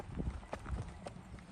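Hooves of a Tennessee Walking Horse at a flat walk, several soft, uneven clip-clop footfalls on the ground during pacing and tripping work, moderately faint with little else around.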